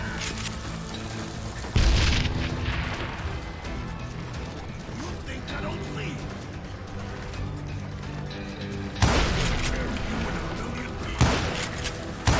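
Dynamite blasts in a video game, heard as two heavy booms, one near two seconds and another near nine seconds, over a dense background of game noise and clatter.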